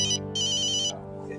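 An electronic phone ringtone plays in bright repeating bursts, a short tone, a pause, then a longer ringing stretch, fairly close and clear.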